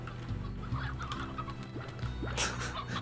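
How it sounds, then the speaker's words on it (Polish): Chickens in the video game Slime Rancher cluck softly and repeatedly in short, irregular bursts, heard alone at moderate volume. "Wygodnickie te kury, halo. O kurczę, kurczaki. Kury, kurczaki."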